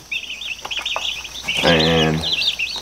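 Young turkey poults about five days old chirp and peep repeatedly in a brooder, close and steady, with a louder bird call in the middle and a voice briefly audible.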